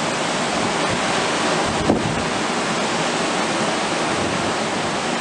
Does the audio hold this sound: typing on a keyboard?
no